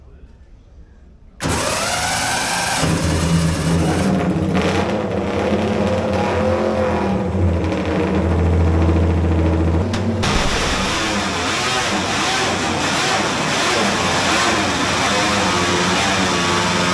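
Vintage motorcycle engines fire up and run very loud at a National Motorcycle Museum open day, with a quiet indoor hall before the sudden start, then a sustained roar with revving and shifting pitch and voices faintly underneath.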